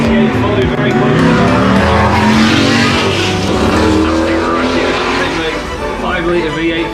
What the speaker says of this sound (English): The Arrows A10 making its way.